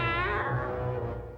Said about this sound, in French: Vous avez fait miaou?